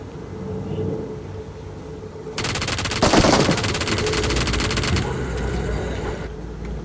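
Rapid gunfire in PUBG Mobile, a dense automatic burst that starts abruptly and runs steadily for several seconds, loud and close over faint background game noise.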